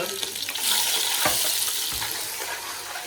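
Chopped onions sizzle and crackle in a rusty iron kadhai while cooking for a wedding, with a loud, steady frying hiss and a few stirring scrapes close by.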